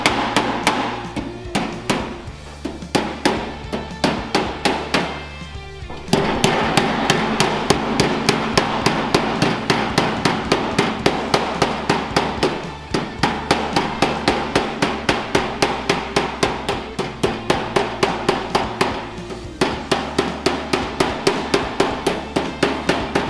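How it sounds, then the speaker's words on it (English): A weighted panel beater's hammer with radiused edges taps a steel door skin in rapid, even runs of sharp metallic blows, loud and close, with brief pauses between bursts. "it's like a panel beater's hammer with a bit more weight behind it"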